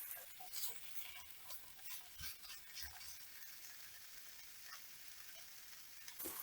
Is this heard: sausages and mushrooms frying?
yes